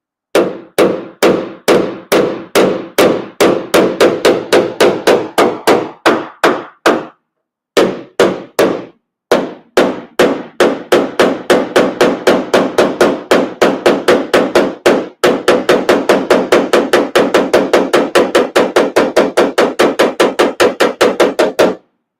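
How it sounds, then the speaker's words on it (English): A 4-ounce Glexo blending hammer taps out a Ram 1500 bedside dent in steady, rapid strikes, close and crisp, with two brief pauses before a faster, denser run of taps. "the 4-ounce Glexo blending hammer"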